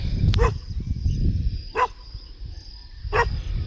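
A dog barks three times at spaced intervals out in open country, heard while searching for birds in the early morning; the barks are moderately distant and stand over steady low background rumble.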